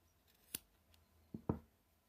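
Scissors snipping yarn while making crochet doll hair for an amigurumi mermaid: one crisp snip, then a quick double snip a moment later, close and fairly quiet, with no speech.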